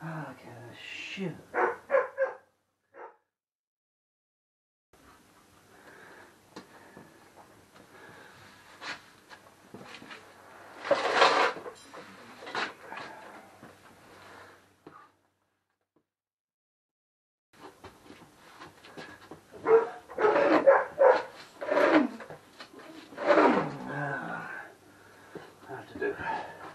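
A dog barks close by in irregular bursts of sharp barks and yelps, broken by stretches of near silence.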